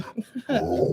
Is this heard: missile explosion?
no